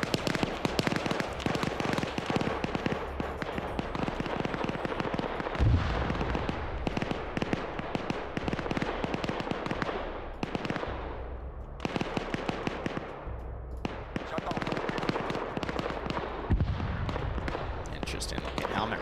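Gunfire fills a military shooter video game, with dense rapid bursts and crackling shots that keep going almost nonstop, loud and busy, and pause briefly now and then. Speech seems to run underneath.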